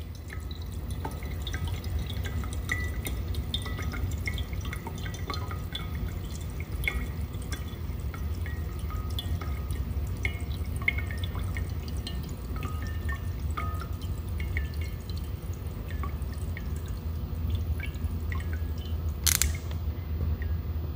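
Water runs steadily through a small model hydroelectric generator with a spinning turbine, making a continuous low rush sprinkled with fine drips and splashes, close and moderately quiet, with no talking throughout.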